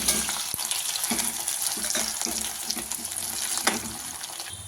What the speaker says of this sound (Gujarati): આપણે આને કડી પત્તાથી ફ્રાય કરશું।